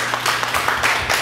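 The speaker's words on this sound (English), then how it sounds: "Let's give God a clap of praise." A church congregation claps in praise together, a dense, steady burst of many hands filling the room at close range.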